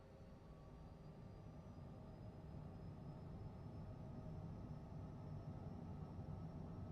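A simulated aircraft engine at full throttle in Microsoft Flight Simulator 2024 drones as a steady low roar with a faint high whine, slowly building and fairly quiet, with no talking.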